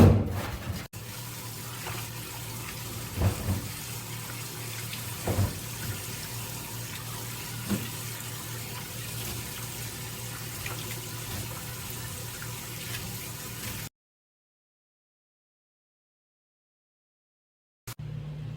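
Salted napa cabbage is rinsed under a running kitchen tap, a steady close rush of water with occasional splashes and knocks, which cuts off abruptly near the end before briefly returning.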